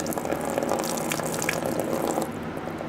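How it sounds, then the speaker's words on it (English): Windshield washer fluid pouring steadily out of a removed tank on a Honda Del Sol / EG Civic, a close, continuous splashing gush of liquid with no talk. "Now it's just pouring out."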